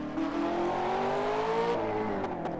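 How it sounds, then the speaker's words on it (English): Racing car engine from the video game Project Cars, revving steadily with a rising whine that climbs in pitch, then shifts down around a gear change near the end; loud, continuous and close, with no talking. "It's Project Cars if you really know your engine sounds"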